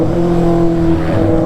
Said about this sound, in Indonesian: Udah knalpotnya berisik, geber-geber bro.